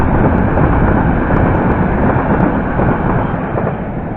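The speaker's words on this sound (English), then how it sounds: "Right, here is train 1045." A London Underground train on the Baker Street to Amersham service passes close by at Pinner, a loud, continuous roaring rumble that holds steady throughout and fades only slightly at the end.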